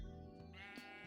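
A Minecraft sheep bleats in a backyard scene at sunset: a clear, wavering in-game bleat with a couple of short pulses, heard alone over faint steady background sound.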